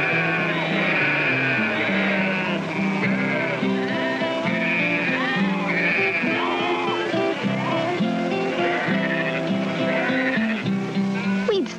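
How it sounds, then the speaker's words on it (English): Thousands of sheep on a wool ranch bleat continuously, a dense, loud chorus of overlapping wavering baas filling the whole span. "Thousands of sheep."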